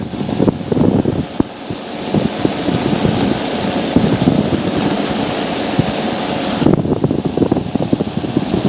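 A gyrocopter engine and rotor drone steadily and loudly from inside the cockpit in level flight between North Weald and Stoke, a continuous dense roar with no break.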